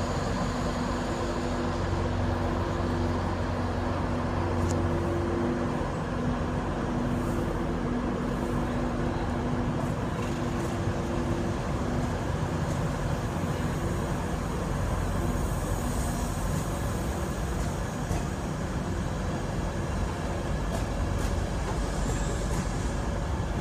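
Virgin electric train with locomotive 91112 and driving van trailer 82209 in Christmas livery departing platform 3 at London King's Cross, a steady low rumble and rolling hum with faint tonal whine, continuous and moderately loud throughout.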